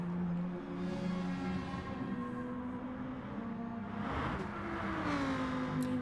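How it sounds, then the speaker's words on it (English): Race car engines in an Italian multi-class mini-challenge hold a steady loud drone with shifting harmonic tones, a cluster of cars passing near the middle, running alone throughout. "Let's just listen to some race car noises."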